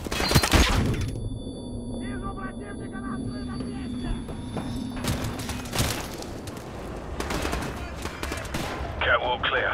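In Call of Duty 4: Modern Warfare remastered, a flashbang grenade bursts with a sharp bang followed by a ringing tone, amid scattered gunfire and loud impacts, with squad voices speaking over the combat.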